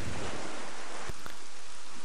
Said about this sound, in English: fireballs raining from the sky, basically endlessly